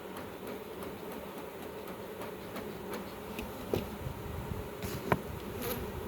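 Bees hum steadily around an open beehive being prepared for winter, a continuous close insect drone with a few brief louder knocks near the end; no speech.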